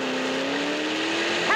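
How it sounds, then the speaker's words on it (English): A cartoon car races off with a steady, rising engine whine and a sharp tire squeal breaking out at the very end, loud and close. "We jumped back in the car and took off."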